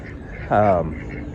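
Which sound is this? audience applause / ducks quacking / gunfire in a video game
ducks quacking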